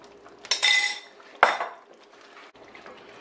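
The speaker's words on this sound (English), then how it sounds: "Here's where we're going to add that seasoned shrimp to the pot now" Seasoned shrimp go into a pot of curry crab, two bursts of clinking utensil on metal and wet sliding as they drop in, each fading quickly, with lighter scrapes after.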